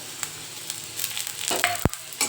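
Onion, garlic and ginger sauté in a hot pan, sizzling steadily while a utensil scrapes and stirs, with a sharp clink of metal near the end; no one talks.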